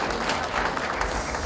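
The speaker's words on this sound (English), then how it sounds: "Can we give a resounding round of applause to Kabiyesi?" Dense, steady crowd applause fills the whole stretch at an outdoor coronation-week tree-planting ceremony in Oniru, sounding close and continuous, with no pauses or talk.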